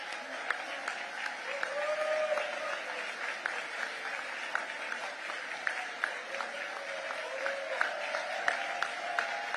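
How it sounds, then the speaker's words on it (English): An audience at a formal awards dinner in New York applauds steadily as the event's dinner co-chairs stand, with a dense, sustained clapping wash and sharper individual claps throughout, a faint voice or two mixed underneath. "please stand all dinner co-chairs as we applaud you"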